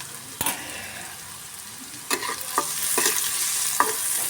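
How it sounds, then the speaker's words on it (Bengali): Onions fried with salt in a pan, stirred with a spatula; a soft sizzle runs underneath while several sharp scraping strokes come through close by, growing busier toward the end. "নুনটা দিয়ে আমি খুব ভালো করে পেঁয়াজটাকে সঙ্গে মিশিয়ে নেব"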